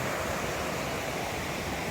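Constant rushing water of the North Umpqua River, a broad steady roar flowing nearby, with no breaks or voices.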